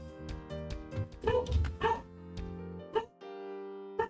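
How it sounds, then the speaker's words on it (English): A dog barks and yips in short, scattered bursts, fairly close but not loud, with ringing tonal sounds between the barks and a couple of sharp final yaps after a short pause. "Woof woof. Yes, doggy."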